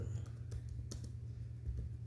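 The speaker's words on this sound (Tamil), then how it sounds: "இப்படி நான் டைப் பண்ணிக்கிறேன்." Someone types on a computer keyboard while writing code, producing a faint, irregular scatter of light key clicks over a low steady hum.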